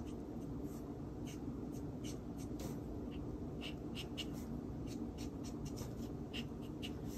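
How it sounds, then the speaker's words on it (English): An ink pen draws small lines on a painting of a pumpkin bushel, making soft, close scratching strokes in short repeated bursts over a faint steady background hiss, with no talking. "I'm gonna actually draw in some of those little lines."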